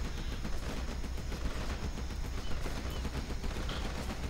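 Gatling tanks fire in a Rise of the Reds 1.85 real-time strategy match, a dense unbroken rattle of rapid gunfire that stays loud for a few seconds.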